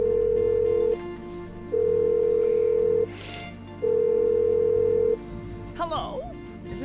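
Telephone line tones in the video game Blackwell Unbound: three long, steady electronic beeps separated by short gaps, with a faint voice starting near the end.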